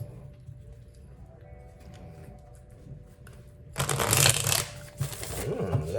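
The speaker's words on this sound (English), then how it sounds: "these cards are shuffling real nice for you." Tarot cards being shuffled: a quiet stretch of faint handling, then a loud, close riffling burst of flicking cards near the end, followed by another shorter ruffle.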